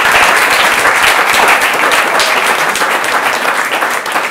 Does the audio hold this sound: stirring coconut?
no